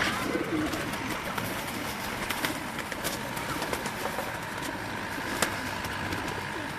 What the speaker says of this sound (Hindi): ये मुजतबा भाई जो दिखा रहे हैं आपको कबूतर